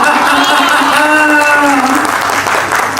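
Steady applause from an audience at a Hindi comedy poetry gathering, a dense wash of clapping with a few voices calling out over it, loud and sustained throughout.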